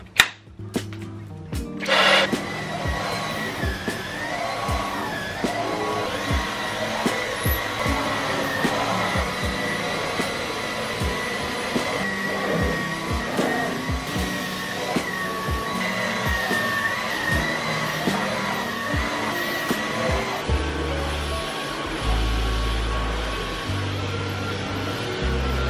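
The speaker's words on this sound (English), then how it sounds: "Okay, so let's vacuum the room, and then I'm gonna do the whole bed with this thing" A vacuum cleaner runs steadily through a home room cleaning, a loud continuous motor drone with a high whine that holds for about twenty seconds, then shifts pitch and texture near the end. No one speaks.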